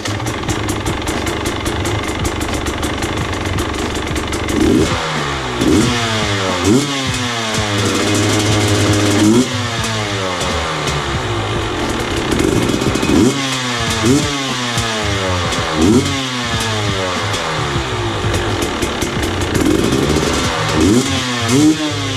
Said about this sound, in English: So you guys heard the stock silencer with the spark arrestor from KTM Husky Best Dual Sports.